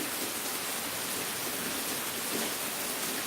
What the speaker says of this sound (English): It is pouring the rain.